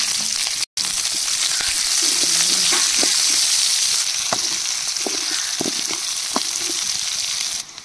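Chopped onions and green chillies fry in a pan for a brinjal curry, giving a continuous loud sizzle with occasional scrapes and light stirring clatters.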